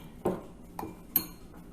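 A utensil mixes beaten milk with garlic powder in a bowl, giving three brief, faint clinks spaced apart against quiet.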